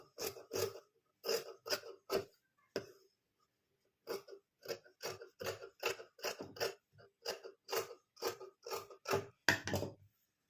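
Scissors snip through blouse fabric during a tailoring cut, giving quick, faint, close clipping bursts in irregular runs with one short pause.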